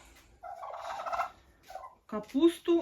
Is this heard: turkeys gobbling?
yes